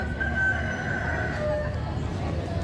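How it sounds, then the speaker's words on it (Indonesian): A rooster crows once over a steady wash of background noise, the call drawn out and moderately loud but partly buried, heard as part of a stage performance telling the Joko Tarub folk tale. "Suara yang jantan dan berkokok membuatkan mimpi Joko Tarub"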